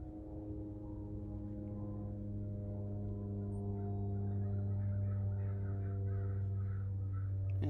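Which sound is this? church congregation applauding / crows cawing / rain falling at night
crows cawing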